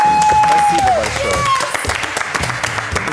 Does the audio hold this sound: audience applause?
yes